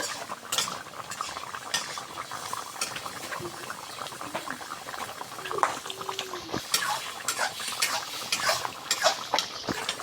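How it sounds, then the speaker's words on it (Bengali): Fish and okra curry bubbles at a boil in a pot, a steady wet bubbling with scattered clinks and scrapes of a utensil against the pot. "এই দেখুন কত সুন্দর বলক উঠে গেছে"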